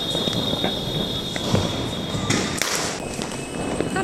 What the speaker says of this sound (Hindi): आसमान में देखो बहुत पटाखे फोड़ रहे हैं और रॉकेट